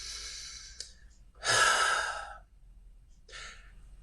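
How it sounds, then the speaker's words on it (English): A slow, deep breath drawn in and let out close to the microphone during a quiet meditation, one long full breath in the middle with a shorter breath before and a softer one after, no talking. "Take a deep breath."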